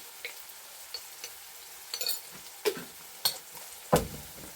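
Sparse sizzling from a pan as ingredients fry to light brown with turmeric, with a few sharp scraping stirs, spaced out and fairly quiet, no voices.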